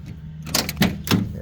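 Door of a 1978 Lincoln Mark V Diamond Jubilee Edition, an aging vinyl-top coupe, opening close by with a few sharp clicks and clunks of the latch and hinge.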